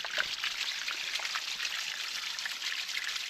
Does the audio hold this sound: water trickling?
yes